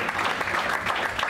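A brief burst of audience applause after a book talk at the Edinburgh book festival, dense steady clapping filling the room with no voices over it.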